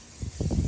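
A few short bursts of cooking spray hiss onto a cooking surface for ribeye steaks, close by, lasting under a second with no talking.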